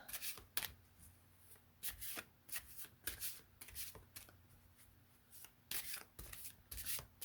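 Tarot cards being shuffled by hand, a quiet irregular series of crisp riffling and sliding bursts close to the microphone over a faint steady hum.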